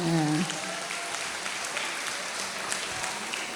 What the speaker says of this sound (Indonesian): tepuk tangan buat Mas Burhan